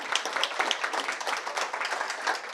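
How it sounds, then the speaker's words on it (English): An audience at a chef conference applauds sponsors, with steady, fairly loud clapping from many hands that carries on without a break. "Big round of applause for sponsors."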